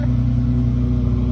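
A turbocharged BMW 325i E36 engine idles too high, giving a loud, steady low hum with strong even harmonics held throughout the brief stretch.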